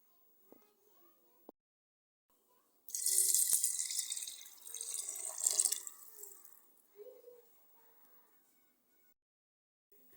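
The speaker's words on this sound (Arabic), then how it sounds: "هاهي البنات الحميصه تاعنا بعد ما درت لها الماء" Water poured into a pot of soaking chickpeas, a few seconds of splashing, gurgling flow that rises, dips and surges again before stopping, close and moderately loud, with brief clinks and handling sounds before and after.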